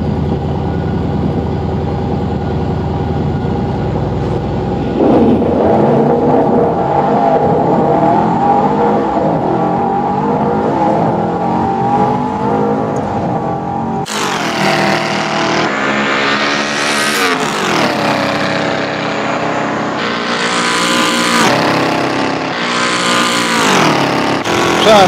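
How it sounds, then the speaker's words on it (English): A car engine roars loudly and continuously, then revs up and down repeatedly in sharp surges as it accelerates. "You can't hear a damn thing over that car."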